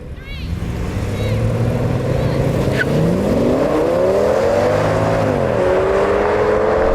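An Audi RS engine in dynamic mode pulls hard under load, its loud, close roar climbing steadily in pitch with rising revs and gear-shift dips, lasting the whole stretch.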